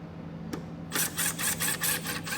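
A power driver backs out the two Phillips head screws on the inside edge of a Jeep taillight, a short click then several quick buzzing whirs in a close, steady rhythm.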